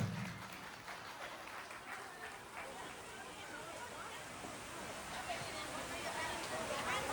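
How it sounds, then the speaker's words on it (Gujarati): Dense, steady applause fills a village gathering of old women friends reuniting after forty years in Malsika, with a crowd murmuring beneath the clapping throughout. "તમારા માટે પહેલા એકવાર જોરદાર તાળીઓ પાડી દો"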